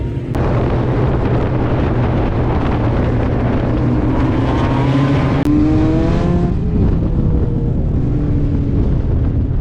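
4-cylinder super stock race cars roar loudly at Brewerton Speedway, a dense, sustained engine howl filling the air with rising pitch sweeps as the pack accelerates close by.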